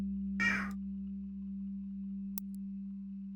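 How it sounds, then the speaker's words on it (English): A single loud meow from a house cat, brief and close, over a steady electronic hum with a faint click afterward and no talking. "My loud ass cat."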